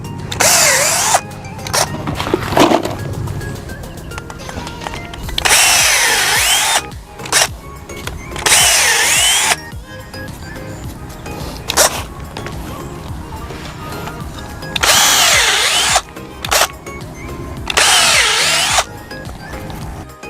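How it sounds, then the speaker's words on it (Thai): A power drill bores at 45 degrees into a tree trunk to treat a wet rotting wound, loud whining bursts of a few seconds each repeated several times with quieter pauses between. "ครึ่งหนึ่งของดอกสว่านเจาะเข้าไปนะครับ อย่าง45 องศาเนี่ยครับแล้วก็ทำการเจาะไปนะครับ"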